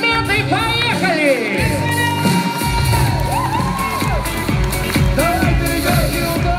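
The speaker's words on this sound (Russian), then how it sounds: "ваши аплодисменты, поехали!" A comedy-contest crowd at a stage show cheers, whoops and shouts loudly and continuously, a lively mix of voices over the audience's applause.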